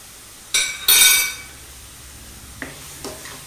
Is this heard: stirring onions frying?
yes